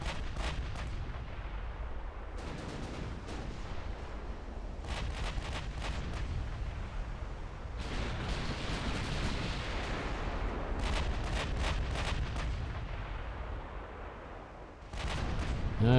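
Naval gunfire in a 1946 Ottoman dreadnought battle in the Caribbean in the game Ultimate Admiral Dreadnoughts, with repeated heavy booming salvos rolling under a continuous low rumble, some volleys in quick clusters, and no talk.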